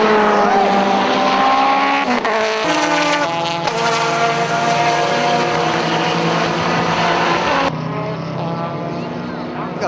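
Race car engines roar loud and steady at Manfield circuit during a winter series race meeting, with harmonic revving that shifts pitch as cars pass, a brief drop near two seconds and a sudden change near the end; voices may be mixed in.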